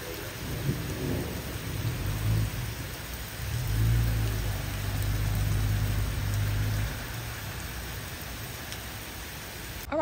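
A thunderstorm moves through a backyard, with steady rain hissing throughout and deep, rolling thunder swelling in the middle before easing off, fairly close and loud with no talking.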